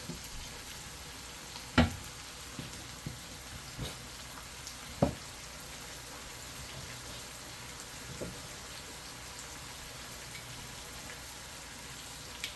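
Pumpkin rice simmering in a pot gives a faint, continuous bubbling hiss with a few soft knocks and clicks scattered through it, with no talking.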